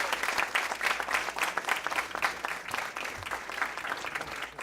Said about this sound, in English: So I want to give her a big round of applause.